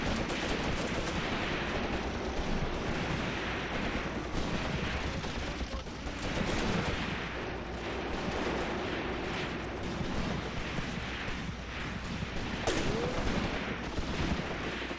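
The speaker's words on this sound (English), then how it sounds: "As you can see, our guys are definitely firing." Infantry gunfire from Croatian Legion troops in the WW2 tactics game Graviteam Tactics: Mius Front, a dense, continuous stream of rifle and machine-gun shots and distant booms, with no voices.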